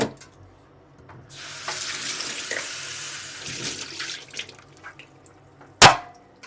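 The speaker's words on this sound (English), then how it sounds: "Just rinse this off of tofu juices." Running tap water rinses tofu juices out of a container in a kitchen sink, a steady splashing stream of a few seconds that fades, then a sharp clunk as the container is set down.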